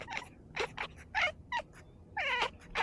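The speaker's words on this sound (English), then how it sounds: "Dude, cats are hilarious." A cat gives a series of short, strained meows and yowls, several quick separate cries close by against a quiet background.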